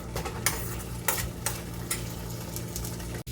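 Sesame seeds and lentils roasting in a pan for ridge gourd chutney, a soft dry sizzle broken by several scraping stirs at regular intervals, close and fairly quiet.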